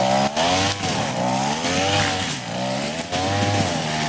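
A two-stroke brush cutter engine runs in a cashew field, its carburettor faulty and reluctant to pick up. The close, buzzing drone rises and falls in pitch in repeated surges, with brief dips between them.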